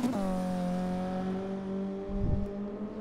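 In a racing video game, the engine of a little Mazda MX-5 Miata race car holds a steady, buzzing high-revving note throughout. A brief lower rumble near the end could be a passing car or a bump.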